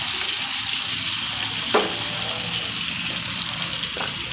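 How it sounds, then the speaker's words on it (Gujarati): Brinjal curry cooks in a pan on low heat with a steady, soft sizzling hiss, broken by one brief scrape partway through, close and continuous with no voices. "આ પેનમાં ધીમે તાપે એમનેમ ચડી જાય."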